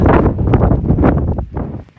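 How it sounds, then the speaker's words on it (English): Loud wind buffets the microphone in heavy, rumbling gusts that ease off toward the end, on the cloudy summit of Mount Lafayette in New Hampshire. "it's too windy and cloudy up on Lafayette"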